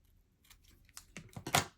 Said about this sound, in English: Just cut the little ends off.